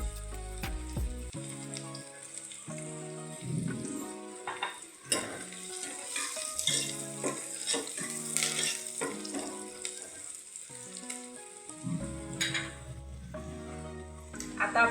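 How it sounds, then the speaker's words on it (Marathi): Onions frying with turmeric in a pan for wajri curry give a steady sizzle throughout, with repeated clinks and scrapes of a spoon stirring, heard close and without talk. "कांदाचा आपला भाजला का ह्याच्यामध्ये एक चमचा हळद टाकूया आपण"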